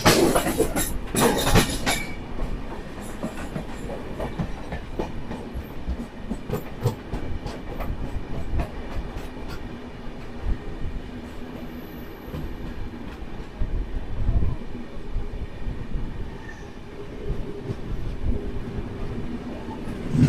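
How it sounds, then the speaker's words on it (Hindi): A Paschim Express passenger train runs on Indian rails, its steady rumbling roll heard close up with rhythmic clicking of the wheels over rail joints throughout and a brief louder burst at the start. "ये है पश्चिम एक्सप्रेस"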